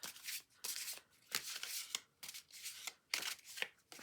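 An oversized deck of oracle cards is shuffled overhand by hand. Quick, crisp bursts of card-on-card riffling repeat in a steady rhythm, close and fairly quiet, with no one speaking.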